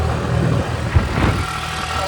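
A car driven hard at top speed, giving a steady, fairly loud rumble of engine and road noise throughout, with one brief thump near the middle.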